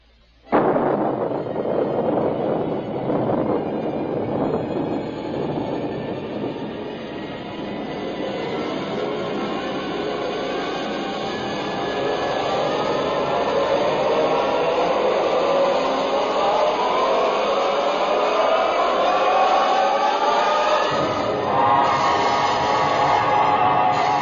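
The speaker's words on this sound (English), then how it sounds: "Countdown for blast off. X minus 5, 4, 3, 2, X minus 1, fire." A rocket blast-off effect from a 1956 science-fiction radio drama bursts in suddenly, then holds as a loud, continuous roaring rumble that swells slightly and keeps thundering for over twenty seconds without any voices.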